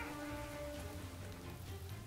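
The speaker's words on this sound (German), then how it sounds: "Es regnet." Rain falling in the video game Craft the World, a soft, steady patter that continues evenly throughout at a fairly quiet level, with a faint tonal game ambience underneath and no talking.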